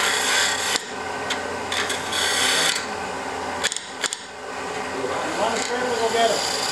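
A spit cutting tool carves into wood, giving rough, rasping cutting strokes in uneven bursts, some long and some short, with brief pauses between them, heard close up.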